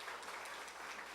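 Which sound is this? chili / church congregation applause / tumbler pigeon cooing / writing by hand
church congregation applause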